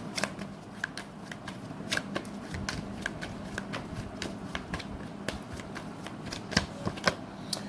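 Tarot cards are shuffled and drawn during a Gemini reading, a steady run of crisp riffling flicks and slaps with a few louder snaps near the end, close and fairly quiet, with no talking.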